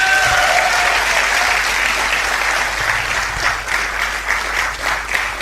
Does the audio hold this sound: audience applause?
yes